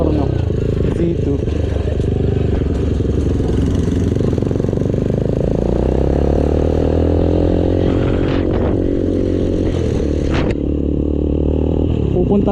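Kawasaki Z2 motorcycle engine idling and revving nearby, a loud continuous throaty rumble with rising and falling pitch sweeps in the middle, over road and wind noise, with a voice talking faintly.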